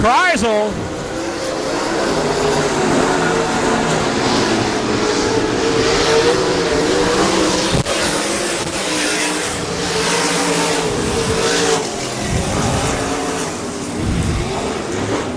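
Race cars at Double X Speedway roar away at the green-flag start of an A main, a loud, rising engine howl with passing surges while a commentator talks over it.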